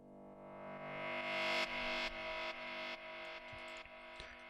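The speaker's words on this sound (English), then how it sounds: "Just a little riser effect there." Synth riser effect from a psytrance track, played on its own: a sweeping tone whose filter opens and climbs in brightness over a few seconds, with faint rhythmic chops near the end.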